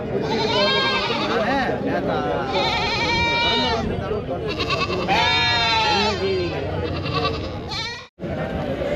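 Goats bleating at the crowded Anthiyur goat market, several long wavering calls rising over constant background chatter and crowd noise, near and fairly loud.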